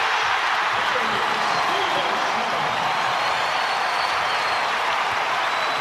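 A college basketball arena crowd roars after a dunk in a Kentucky vs Tennessee game. The cheering is a steady, loud wash of noise, and a commentator talks over it.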